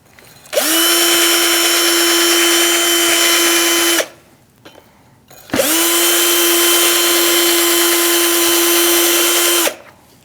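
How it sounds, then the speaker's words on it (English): A power drill with a wire brush whirs loudly in two long sustained bursts, each about four seconds, with a brief pause between them; steady high-pitched buzzing, close up, cleaning a 2016-2019 Chevrolet Cruze rear brake bracket. "I'm going to use a wire brush on my drill."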